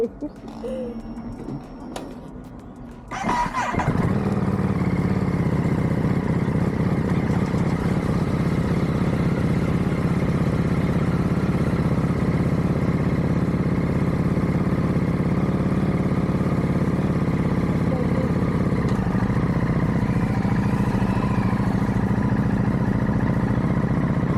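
Ducati Monster motorcycle engine running steadily at close range on a hot day, a sharp start after a quiet opening, then a constant loud mechanical drone and clatter that continues without a break.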